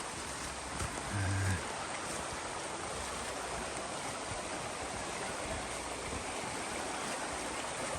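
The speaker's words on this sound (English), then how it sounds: "This is a river we've got to cross" A river rushing over rocks at a crossing on the Appalachian Trail in Maine, a steady broadband roar of water close by that holds evenly throughout with no talking.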